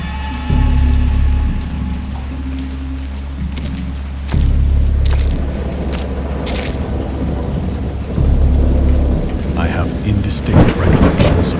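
Heavy rain pours steadily while deep thunder rolls and booms close by, with several loud rumbling claps swelling and fading.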